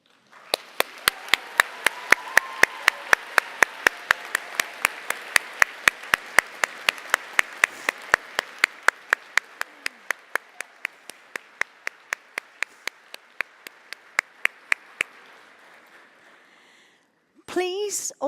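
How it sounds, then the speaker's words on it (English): A graduation ceremony audience applauds at the University of Southampton, sharp regular claps ringing out loudly in a large hall, then thinning and fading over about fifteen seconds before a brief burst of noise. "give them a wave and a huge round of applause."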